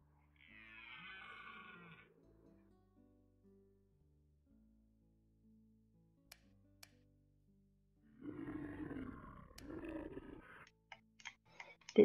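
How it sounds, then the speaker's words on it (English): A creature growls low and rough in The Kindred video game, first in a short burst, then again louder after a quiet stretch, with faint clicks and ticks scattered between. "Bit worried about the growling. I don't think that's my stomach."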